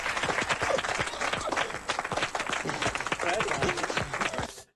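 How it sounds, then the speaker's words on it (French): A studio audience on a French television show claps in sharp, busy bursts with voices mixed in, sustained until an abrupt cutoff. "Et on applaudit également"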